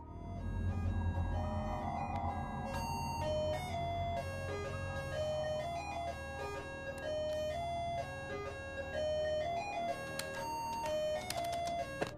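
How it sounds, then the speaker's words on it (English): An alarm clock plays the tinny electronic jingle of the Kreemy Kold ice cream truck tune, a bright repeating melody that runs continuously over a low hum at a steady, fairly quiet level. "have his alarm clock go off with the same unsettling tune"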